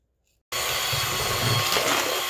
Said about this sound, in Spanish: ahora sí vamos a batir la clara